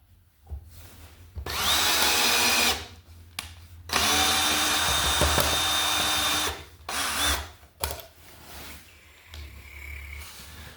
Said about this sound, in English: we'll pre-drill our ground hole screw